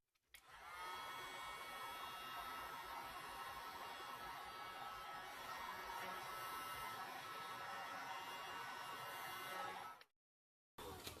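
A heat gun blows steadily on resin artwork for about ten seconds, a loud continuous fan-and-air roar that cuts off abruptly near the end.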